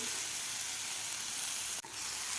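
Tomatoes frying in a pan for a spicy village-style drumstick curry, a continuous loud hiss of sizzling oil with one brief scrape partway through, no voices.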